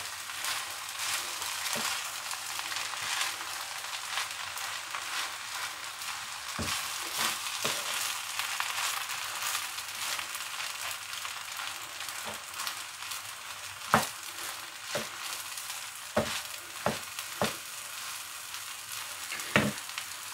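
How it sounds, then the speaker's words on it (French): Cantonese fried rice with chicken and peas is stirred in a hot pan, a steady bright sizzle broken by repeated sharp scrapes and clacks of the utensil, with no talking. "Vous mélangez encore une petite minute"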